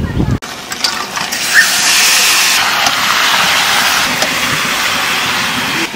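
Mutton dropped into a pan of fried onions gives a loud, sustained hiss of sizzling that starts abruptly and holds steady throughout.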